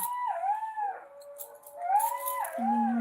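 Several jackals howl together on a cold night, long wavering cries rising and falling over one another, one lower steady note joining near the end, fairly close and continuous.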